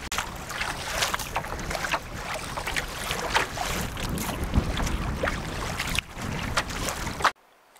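A canoe is paddled into strong wind on a remote lake, with heavy wind buffeting the microphone, water splashing and paddle strokes, steady and loud throughout before cutting off abruptly near the end.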